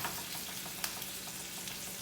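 Steak frying in a pan as it is basted with browning butter, a soft continuous sizzle with light spoon scrapes and one brief clink.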